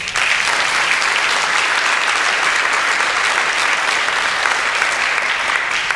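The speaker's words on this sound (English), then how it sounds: "Round of applause for Don." An audience at a panel discussion on suicidal ideation gives a full, sustained round of applause, dense clapping from many hands at steady loudness throughout.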